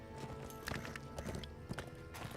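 Horse hooves clip-clop steadily in a quick walking rhythm while riding in the online game Lord of the Rings Online, with music and game effects close underneath.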